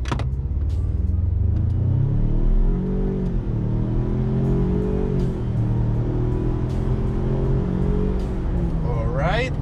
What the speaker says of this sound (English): now we're gonna do a pull from 0 to 60 and see how quickly we can get there